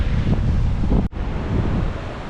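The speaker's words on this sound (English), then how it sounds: "The sea is roaring in along the coastline here" Sea waves roar steadily along the coast below Galle Fort in Sri Lanka, with strong wind buffeting the microphone and a brief dropout midway; loud and close, no voices.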